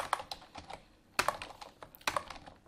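Keystrokes on a German-layout computer keyboard, typed in uneven bursts with a few louder clusters of clicks, close and clear with no talking.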